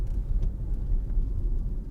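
Hyundai IONIQ 5 rear-wheel-drive electric car accelerating hard, heard from inside as a low, steady road rumble and drone with faint whir, continuous and fairly loud, no talking.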